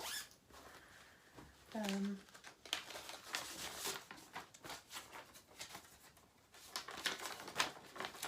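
Crinkly plastic project bag holding a Halloween cross-stitch piece rustles close up in handling bursts, with soft crumpling and zipper-like scratches, mixed with a quiet voice talking.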